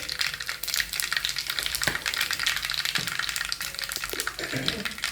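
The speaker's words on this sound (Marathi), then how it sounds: "जिरे टाकते हिंग टाकते" Cumin seeds and asafoetida hit hot oil with a loud, dense crackling sizzle, heard close, with a few stirring knocks.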